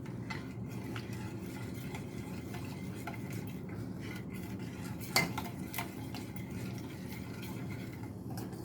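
A spoon stirs creamy Cajun veggie pasta sauce seasoned with smoked paprika in a pan over very low heat, giving soft repeated scrapes and light clinks, with one louder knock partway through.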